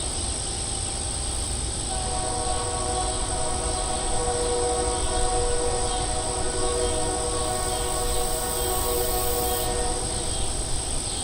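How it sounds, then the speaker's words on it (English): A train rumbles steadily and loudly for the whole stretch, with sustained tonal horn-like or wheel-squeal lines coming in after a couple of seconds and high insect chirring above it. "We can all go back to reading and listening to the train"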